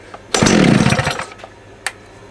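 An old two-stroke disc cutter engine fires up loud and close, revving in a harsh rising burst for about a second before dying away, followed by a short sharp knock.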